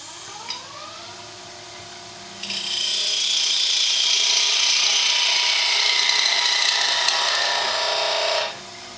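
A wood lathe flattens the end of a chalice blank, giving a loud, steady scraping hiss that starts abruptly and runs for about six seconds before cutting off, with no talking.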